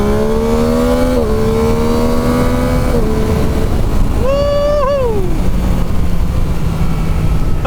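A Yamaha MT-09 motorcycle accelerating hard, its engine note climbing through rising pitch sweeps with gear changes under heavy, steady wind roar, loud and close.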